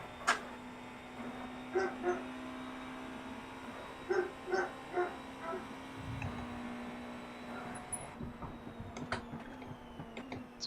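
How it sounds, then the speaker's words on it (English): Several deep barks from a big dog in the distance, heard from inside a race car at Le Mans over a steady engine drone and road noise. "It's a big dog bark."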